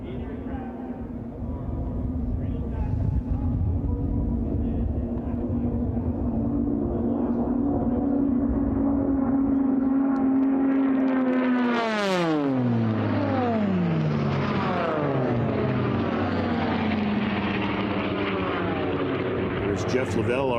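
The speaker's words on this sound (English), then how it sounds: "You see the pace plane pulling up." Sport-class racing airplanes in an air race heat drone steadily, then one roars past with a sharp drop in engine pitch, heard under continuous commentary.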